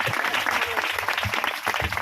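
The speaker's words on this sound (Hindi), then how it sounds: "वो जोरदार प्रभु यीशु मसीह के लिए ताली बजाओ" A church congregation at a gospel sermon meeting in Damua, Chhindwara bursts into loud, dense applause, a steady clatter of many hands filling the whole moment.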